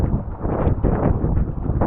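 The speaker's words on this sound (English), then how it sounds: "here's a big gust now" A big gust of wind buffeting a sailboat in torrential rain, a loud low rumbling blast of wind noise across the microphone for the full two seconds.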